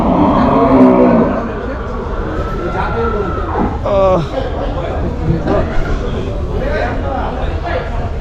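Cattle at a cow exhibition in Bangladesh give loud, close moos over the constant chatter and voices of a gathered crowd.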